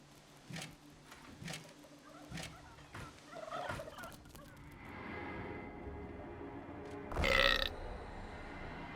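A monstrous hellhole in the Dungeons 3 game lets out a single deep, rumbling burp near the end, loud and close, preceded by quieter game effects and clicks.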